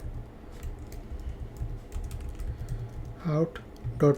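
Rapid clicking of Java code being typed on a computer keyboard, steady close keystrokes throughout, with a voice speaking briefly near the end.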